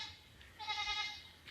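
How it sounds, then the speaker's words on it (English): A young goat in a village gives a single close, quavering bleat lasting under a second. "Small one of a goat."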